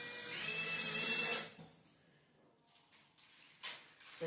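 A power drill drives screws into the corner stand of a coffee and drink bar, whirring loudly for about a second and a half before stopping, then faint handling sounds and a brief clatter follow.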